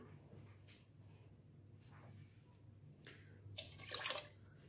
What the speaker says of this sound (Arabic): نزيد شويه ماء